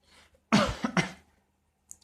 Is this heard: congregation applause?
no